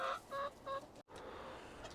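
Chickens on an allotment during a storm cluck in three short, nasal bursts, then a gusty, breathy background carries on after a brief drop.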